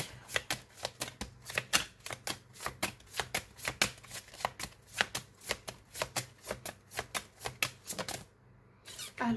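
Oracle cards are shuffled by hand in a quick, steady run of crisp riffling slaps and taps lasting about eight seconds, fairly close and soft, with no talk, before stopping abruptly.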